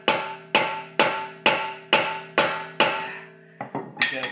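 Hammer tapping on a wrench to loosen an over-tightened car lug nut: about seven evenly spaced ringing metallic strikes close up, then a few quicker, lighter taps.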